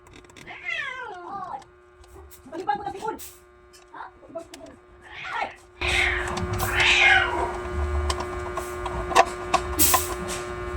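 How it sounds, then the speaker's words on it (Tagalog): Cats meow repeatedly in a workshop during a car aircon switch box repair. Several wavering meows come close and loud in the first half, then a loud mechanical hum and clatter takes over, with more meows mixed into the noise. "Bugno na itong mga cat dito"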